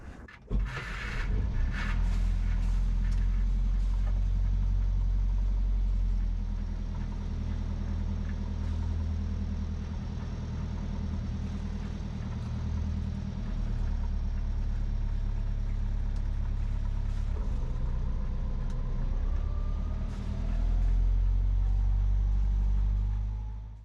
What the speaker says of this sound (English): So I'm thinking maybe we just nudge down the Derwent with the engine on.